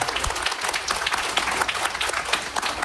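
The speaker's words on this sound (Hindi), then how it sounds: "उनके लिए ताली बजा दो मैडम" Audience applause fills a seminar hall, steady dense clapping from many hands with no break, loud and close throughout.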